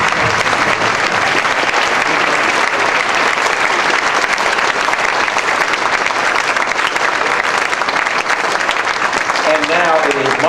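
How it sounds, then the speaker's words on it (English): A large audience at a Kennedy Space Center ceremony gives a long, loud, unbroken round of applause honoring astronaut Hall of Fame inductees, dense clapping filling the room, with a voice speaking near the end. "Please give a warm round of applause for the Hall of Fame."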